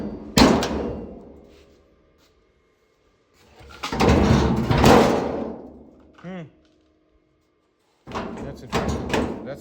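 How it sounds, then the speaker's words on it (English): The steel hood of an old Studebaker truck is lowered and set in place, with a loud metallic thunk, a longer rattling clatter as it settles, and another pair of clanks at the end, with quiet gaps between them. "I gotta close the hood, set it in place"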